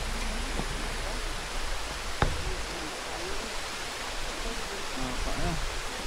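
Steady broadband rush of a flowing stream near a hanging bridge in San Mateo, Rizal, filling the whole stretch with constant water noise, with a sharp knock partway through and faint voices in the background.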